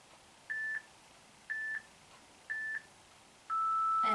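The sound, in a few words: workout interval timer beeping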